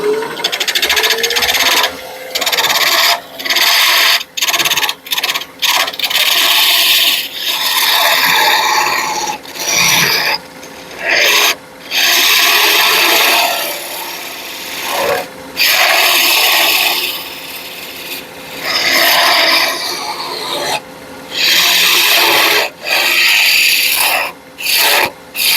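Repeated rasping strokes of hand cutting, a saw or file scraping back and forth in uneven bursts with short pauses between runs.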